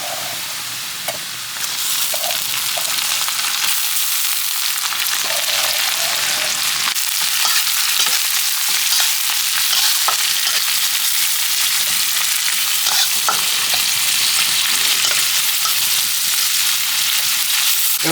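Shrimp frying in a pan for shrimp pasta, a loud steady close-up sizzle running throughout with occasional scraping stirs, no voices.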